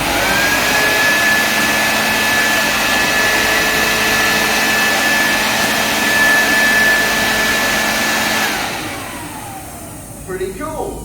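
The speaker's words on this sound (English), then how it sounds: "So now with my nozzle, I can fire the ping pong balls." Air blower nozzle firing ping pong balls: a steady, loud rushing blast of air runs for about eight seconds, then cuts off, leaving a few faint light taps.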